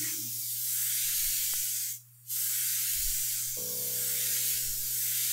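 An airbrush hisses while spraying black paint, in short bursts broken by a brief pause, over a low steady hum in the room.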